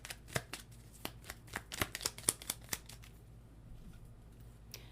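Tarot cards shuffled and drawn by hand, a quick series of crisp, close riffling snaps and flicks that thin out toward the end, quiet overall.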